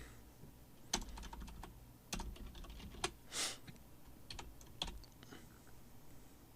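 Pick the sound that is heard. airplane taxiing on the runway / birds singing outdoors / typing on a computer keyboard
typing on a computer keyboard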